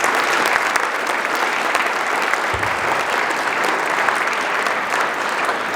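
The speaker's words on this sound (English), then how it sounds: "Please give Mr. Chingwere a round of applause." Steady, sustained applause from a school audience at a speech day ceremony, a dense wash of clapping that holds at an even level throughout with no speech over it.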